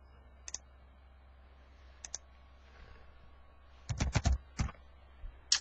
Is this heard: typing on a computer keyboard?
yes